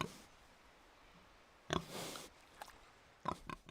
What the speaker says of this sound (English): They also raise pigs.